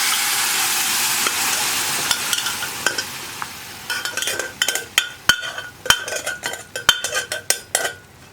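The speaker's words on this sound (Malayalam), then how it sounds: "കടല ചേർത്തിട്ട് നന്നായിട്ടൊന്ന് ഇളക്കുക." Cooked chickpeas are stirred into a thick, coconut-free kadala curry in a pan: a soft sizzle runs throughout, and from midway a spoon scrapes and clinks against the pan in close, uneven strokes.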